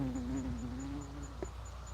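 A yellow jacket buzzes right against a phone's camera lens, a close, wavering drone with faint, evenly spaced beeps in the background and no speech.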